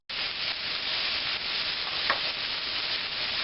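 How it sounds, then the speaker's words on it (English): Garlic, about four cloves, sizzles steadily in a hot pan, a dense, even hiss that stays loud and close throughout with no talking. "I'm going to throw in the garlic right now."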